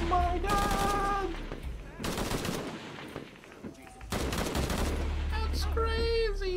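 Rapid gunfire rattles in bursts in the video game Tomb Raider 3, loud and close, with short gaps between volleys and a voice talking over part of it.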